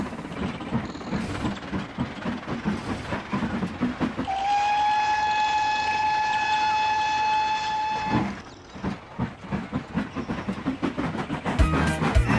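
A steam train whistle sounds one long, steady blast over chugging rail clatter, then the rhythmic puffing and clanking carry on alone.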